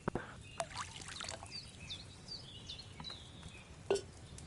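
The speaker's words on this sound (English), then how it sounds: "So, what did you pour in there? Wine, of course." Wine pours into a cauldron in the video game Kingdom Come Deliverance 2, a soft liquid splash with light clinks of a pitcher and pots, quiet and close with no talk.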